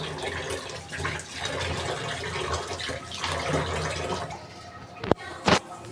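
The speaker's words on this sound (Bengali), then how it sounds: "এবার আমি এটাকে ভালো করে পরিষ্কার করে ধুয়ে নেব।" Running water rinses freshly cut chicken pieces for a Bengali chicken curry, a steady continuous wash of flowing water with splashy bursts near the end, sounding close and fairly loud.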